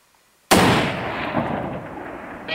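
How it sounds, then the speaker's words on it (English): A single loud rifle shot fired during an aoudad sheep hunt in open country, a sharp crack followed by a long rolling echo that slowly fades, with no talk over it. "Fantastic shot. You killed him."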